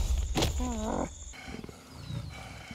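A tiger roars loudly and close in the video game Ancestors: The Humankind Odyssey, a snarling growl with a drawn-out tone, followed by quieter rumbling ambience.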